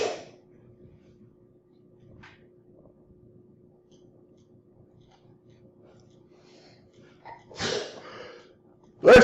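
A single sharp sneeze bursts out near the end after a long stretch of quiet room tone, close and loud, preceded by a brief intake of breath.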